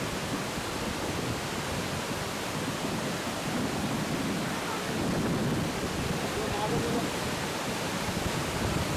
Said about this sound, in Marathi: भीमाशंकरच्या डोंगर माथ्यावर मुसळधार पावसाला सुरुवात झाली आहे.